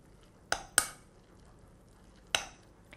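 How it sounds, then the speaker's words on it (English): Spoon stirring a syrupy chicken filling mixture for steamed buns in a bowl, three sharp clinks against the bowl, two close together and one later, over a quiet background. "I'm going to go ahead and stir this up"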